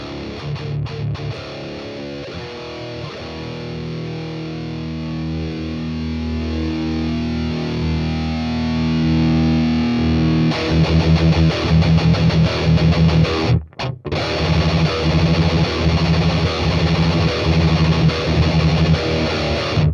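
Distorted electric guitar on a BOSS Katana MK2 amp plays a sustained riff with a thick delay mimicking an MXR doubler, steady and loud throughout with a brief dropout near the end.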